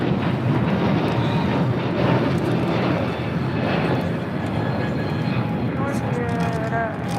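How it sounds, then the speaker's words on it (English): A United Airlines Boeing 757-200 takes off on the south side of LAX, its engines producing a loud, sustained roar with wind buffeting the microphone, steady throughout and fairly near. "United Airlines Flight 1312 heading to Newark. It's a 757-200. Next takeoff here on the south side."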